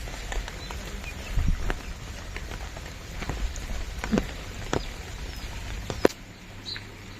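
Heavy rain pours down in a village, a dense, steady hiss of drops on surfaces with scattered louder splats and taps throughout.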